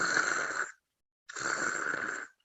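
A voice imitates snoring: two drawn-out, rasping snores, close and fairly loud, separated by a short silence.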